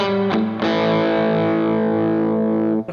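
A Harley Benton EX-76 electric guitar with light crunch distortion plays two quick picked chords, then lets a thick, distorted chord ring out loud and sustained for over two seconds.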